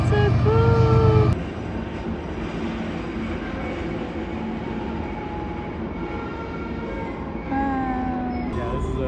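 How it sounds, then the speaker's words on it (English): A giant train rumbles steadily through a tunnel near Emerald Lake in British Columbia, a loud continuous roar heard from a distance with no talking. "this is a giant train"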